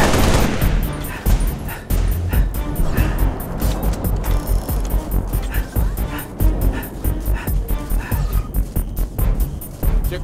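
Heavy gunfire from a Halo: Reach battle rattles almost nonstop for ten seconds: loud, dense bursts of rapid automatic shots with sharp repeated cracks layered over a constant rumbling din of combat.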